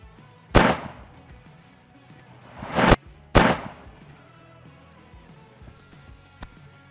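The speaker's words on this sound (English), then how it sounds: "1014 military spec semi-auto shotgun. We've got it loaded up with a 12 gauge, 1 ounce slug" A 1014 military-spec semi-automatic shotgun fires 12 gauge one-ounce slugs into cinder blocks: three loud, sharp blasts spaced a couple of seconds apart, each ringing out briefly, followed by a faint distant pop.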